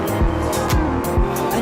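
An Alfa Romeo car in the TDU Solar Crown racing game, its engine revving up and down in quick repeated sweeps with a raspy, loud exhaust note and a brief tire squeal.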